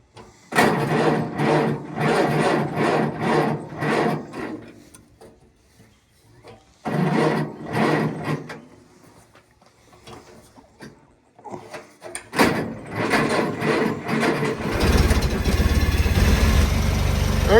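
The small engine of an antique Farmall Cub tractor, choked and in neutral, sputters and turns over in bursts, cutting out between attempts, then catches and runs steadily with a low, loud rumble.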